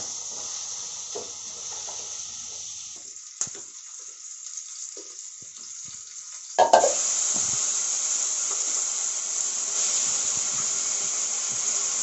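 Pointed gourd frying in a pan, a continuous hiss with a few stirring knocks, then a louder burst of sizzle that settles into a steady, fuller fry.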